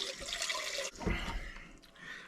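Well water pours and splashes from a big jug into a container in a short burst, close by, with a brief pause and a second gush.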